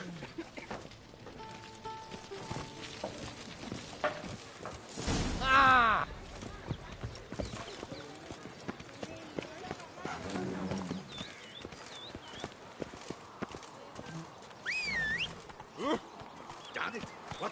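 Roach, a video-game horse, runs with rhythmic clip-clopping hooves. Game ambience and effects play underneath, with one louder burst partway through.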